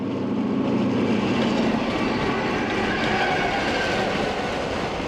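Train 108, the Challenger, a passenger train running eastbound without sleeping cars, passes close by with a loud, steady rumble and rhythmic wheel clatter that continues throughout.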